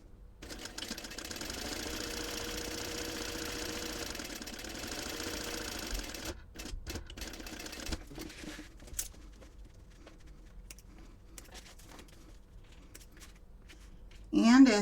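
A sewing machine stitches fabric for a purse, a steady whirring run of about six seconds followed by a few short bursts and stops, fairly quiet and close.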